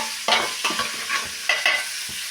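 Sliced onions fry with black pepper as a spoon stirs them in the pan, a short burst of sizzling punctuated by several distinct scraping strokes, close and fairly loud.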